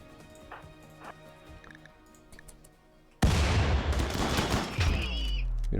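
Colonists open fire in a RimWorld battle: after a quiet stretch of light ambient sounds, an abrupt, loud burst of rapid overlapping gunshots continues without a break.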